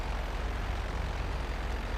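A plane's aircraft engine drones in the video game GTA Online, a steady, loud, broadband roar that holds without break for the whole moment, with no voices over it.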